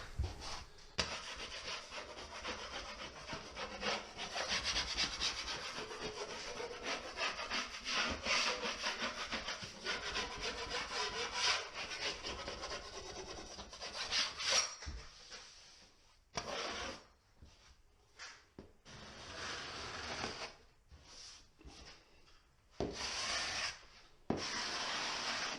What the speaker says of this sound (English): I'm going to take my 6-inch knife and scrape any high spots or anything like that.